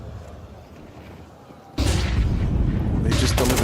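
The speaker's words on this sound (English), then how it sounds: "They just delivered Donk a nade" A grenade blast erupts in a Counter-Strike 2 esports match after a quiet stretch, a loud sudden boom that stays as a dense roar with more crackling bursts behind it.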